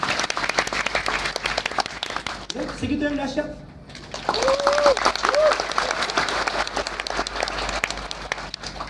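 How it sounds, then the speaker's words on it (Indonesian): Church congregation clapping loudly and steadily, a dense burst of applause that briefly dips midway while a preacher's voice speaks over it, then swells back up. "kita kasih tepuk tangan dulu yang dahsyat"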